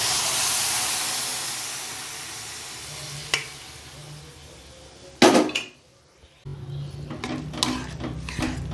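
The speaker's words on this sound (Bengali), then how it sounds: "এবার সেদ্ধ করা ডালগুলো এর মধ্যে দিয়ে দিচ্ছি।" Boiled lentils going into a hot pan and being stirred for an egg tadka, with a strong sizzle that fades, then a loud wet splash followed by softer bubbling and stirring noises.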